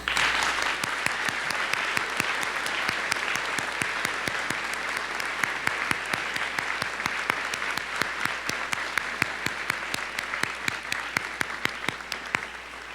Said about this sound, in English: let's please give these families a round of applause.